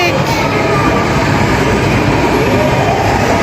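A toy train in a children's play center rumbles steadily with a continuous rolling clatter, loud and close, heard while riding aboard.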